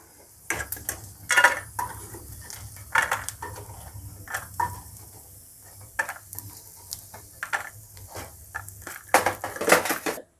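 Roasted peanuts are scraped and scooped out of a hot pan, giving close, irregular bursts of rattling and clattering with quiet gaps between them.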